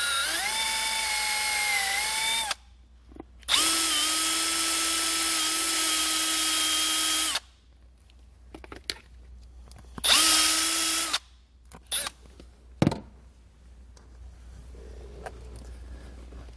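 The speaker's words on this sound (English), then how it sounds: "I'm just going to use a step drill bit" A power drill with a step drill bit whines loudly through plastic in several sustained bursts, pitch steady then dipping slightly under load, with quiet pauses and small clicks and knocks between runs.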